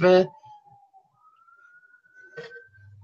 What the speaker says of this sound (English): I've got the patio doors open and it sounds like an ambulance.